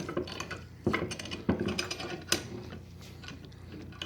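A screw is turned into a cheap Harbor Freight bench vise, giving close repeated metallic creaks and ratcheting clicks with a few sharper knocks.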